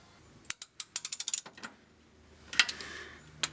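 A ratchet clicks in a fast run of sharp metallic ticks while tightening nuts on a Nissan 350Z sway bar bracket, then pauses before a few more scattered clicks and clanks, close up.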